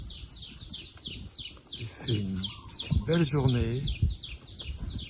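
Birds chirp and sing in rapid repeated high tweets on the bank of the Mekong in Laos, continuing steadily throughout while someone talks over them in the middle.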